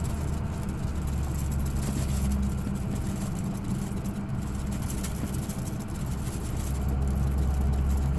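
Steady low engine rumble and road noise inside a 2007 Ford dually pickup truck under way, a continuous loud drone with no breaks and no talk.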